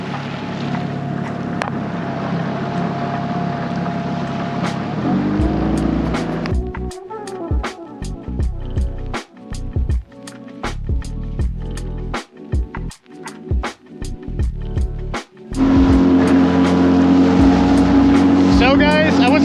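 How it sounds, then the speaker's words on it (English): A FishSkiff 16 inflatable motorboat runs through wind and waves, a steady engine drone broken by repeated thumping wave slaps and gusty wind buffeting the microphone, loud and close. "now we're just cruising with the wind and waves and heading back to the boat ramp."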